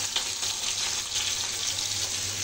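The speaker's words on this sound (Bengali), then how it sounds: "কড়াইতে তেল দিয়ে পাঁচফোড়ন দিয়েছি, পাঁচফোড়ন লাল হয়ে গেছে, পেঁয়াজ দিয়ে দিয়েছি" Onions frying in oil with panch phoron (Bengali five-spice) in a wok: a steady, close, crackling sizzle that holds evenly throughout with no talking.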